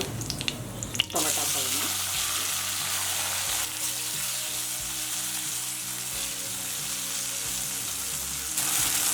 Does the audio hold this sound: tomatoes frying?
yes